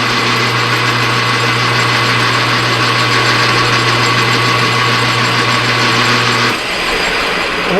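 A lathe takes a spring pass on a 1/4 inch bolt, a loud steady motor whine with a constant hum and fine cutting hiss that shifts slightly near the end.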